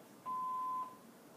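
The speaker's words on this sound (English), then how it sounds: "please leave a message after the tone" An answering machine gives a single clear, steady beep tone lasting about half a second, heard alone against faint background hiss.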